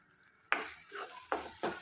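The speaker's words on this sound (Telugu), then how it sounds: "ఇట్లా ఆయిల్ పైకి తేలేంత వరకు ఈ మిశ్రమాన్ని ఇలా కలుపుతూనే ఉండాలి" Sherva masala mixture stirred in oil in a pan, a few distinct scraping strokes over a soft continuous sizzle, close and fairly quiet, with no talking.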